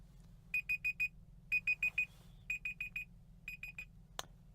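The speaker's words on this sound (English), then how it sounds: "That was the timer." Electronic kitchen timer beeping in groups of four sharp, evenly spaced high tones, repeating several times close by in a quiet space, the last group fainter, followed by a brief click.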